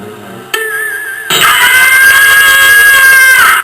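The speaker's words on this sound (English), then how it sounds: "Whistled James. He had had enough" A loud, shrill steam whistle blasts steadily for about two seconds after a brief lower toot, then cuts off abruptly.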